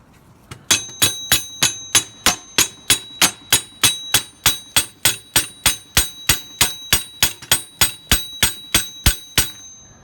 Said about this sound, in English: Now that required a bit of banging with this very convincing hammer.